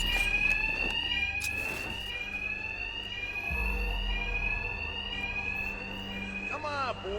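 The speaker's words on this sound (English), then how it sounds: "My attacks will be covered by the noise of the alarm." Loud electronic alarm wails in Batman: Arkham Knight, a continuous rising and falling siren tone that runs throughout while voices talk and game sounds clatter underneath.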